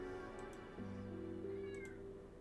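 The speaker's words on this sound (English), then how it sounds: "I hear the meow, but I don't see the sticker." A cat meow plays as a stream alert sound effect, one drawn-out mew heard clearly over a steady low hum, with a second fainter meow-like chirp near the end.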